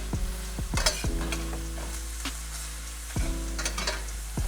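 Ground meat for tacos browning in a pan, a steady close sizzle broken by repeated scraping stirs, with no talking.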